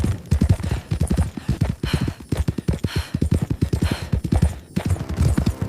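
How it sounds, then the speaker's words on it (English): A horse's hooves clip-clop in a steady, fairly loud rhythm, continuing through the clip with no speech over them. "Then he heard a horse, one distant hoofbeat, then another."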